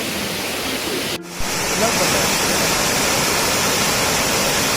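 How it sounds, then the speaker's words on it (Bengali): Waterfall at Elephant Falls, a steady broadband roar of falling water close by, interrupted by a brief dropout near the start before resuming loud and continuous. "পুরো ফলসের আওয়াজ এটা হচ্ছে"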